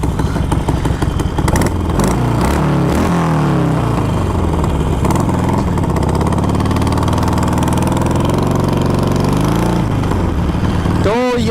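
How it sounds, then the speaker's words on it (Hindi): A Harley-Davidson motorcycle engine rumbles loudly and close, shifting in pitch as it revs, under someone talking throughout. "तो ये गड़गड़ाहट है हमारे हार्ले की"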